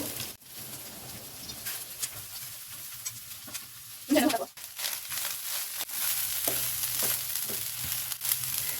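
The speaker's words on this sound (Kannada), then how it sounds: "ತೆಂಗಿನ ಎಣ್ಣೆ ಹಾಕ್ತಿದ್ದೇನೆ ಇದನ್ನು ಚೆನ್ನಾಗಿ ಫ್ರೈ ಮಾಡಬೇಕು" Pieces of kesu (colocasia) leaf pathrode fry in coconut oil in a pan, giving a steady close sizzle with a louder crackling burst midway, probably as more food goes in or it is stirred.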